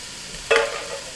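A single quick scrape of a spoon through onions and celery in a pot, a short sizzling stir rising from a quiet background and fading within half a second, no voice.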